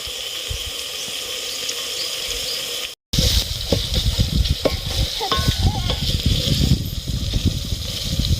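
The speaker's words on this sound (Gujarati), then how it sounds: "હવે આપણે એને ધીમા તાપે છડવા દઈશું જેથી કરીને ટમેટા વ્યવસ્થિત રીતે છડી જાય" Chopped tomatoes sizzle steadily in a pan over a low flame while being cooked with onions for a bitter gourd and drumstick curry, with stirring scrapes and a brief break partway through.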